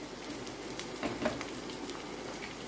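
Prawns fry in hot oil over a medium flame for a crispy South Indian dish, a faint, steady sizzle with a few soft pops.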